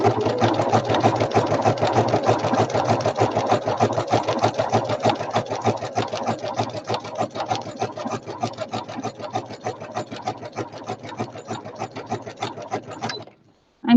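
A sewing machine stitches a double zigzag on a country placemat, a close, steady rapid mechanical chatter running for about thirteen seconds before stopping abruptly, with a brief knock at the end.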